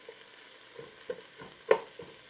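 Onion and leeks saute in bacon grease, a faint low sizzle with a few soft scrapes and one sharper tap of the utensil against the pan.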